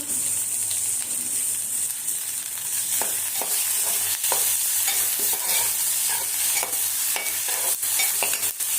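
Tomatoes frying in a pan for Marathi-style bhaji, with a steady loud sizzle throughout and repeated scraping clicks of a spoon stirring, growing busier toward the end.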